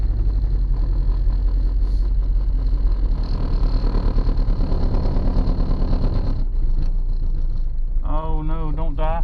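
An old Volkswagen engine, left sitting for 19 years, idles roughly with a low steady rumble, near and continuous, sputtering toward the end as it runs low on fuel; someone speaks briefly over it.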